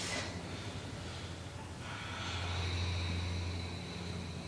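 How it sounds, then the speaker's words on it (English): Steady, audible breaths flow in and out during a yoga stretch for low back pain, close and unhurried over a soft airy background with no talking. "Now continue to breathe."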